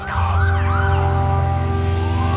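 Several police car sirens wail loudly and close, their tones sweeping up and down over a steady droning hum.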